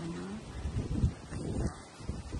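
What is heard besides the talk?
strong wind at tail end of Cyclone Jasper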